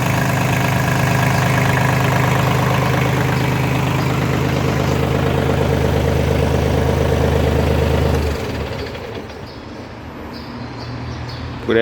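A John Deere 3036E tractor engine runs loud and close, holding a steady low rumble for most of the time before dropping off and fading to a quieter idle near the end.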